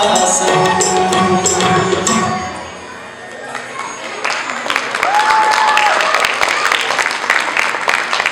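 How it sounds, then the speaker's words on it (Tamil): Audience applause after a youth classical dance performance: dense, steady clapping from a crowd fills the space, swelling again after a brief dip, with a voice speaking over part of it. "நம்முடைய நாட்டிய மங்கைகளுக்கு ஒரு பெரிய கரகோஷம் கொடுக்கலாமா?"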